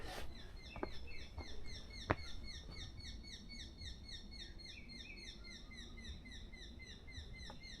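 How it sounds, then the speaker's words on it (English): A bird calls repeatedly in a Korean mountain forest at sunrise, bright chirping notes close by and steady throughout, with other birds and a faint hum of ambient forest sound behind. "that bird's not far."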